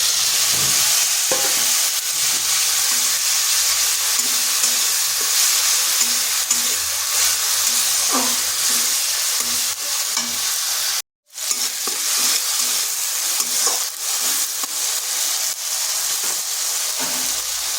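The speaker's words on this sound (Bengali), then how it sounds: "হলুদটা এই জন্য আগে দিলাম তাতে তেলটা ছিটাবে না আদাটাকে একটু ভেজে নিলাম এরপর দিয়ে দিচ্ছি টমেটোর পিস" Tomato pieces sizzle in hot oil with turmeric and fried ginger, a loud, continuous frying hiss with occasional stirring clinks, broken by a brief gap before it resumes.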